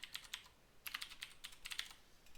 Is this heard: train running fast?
no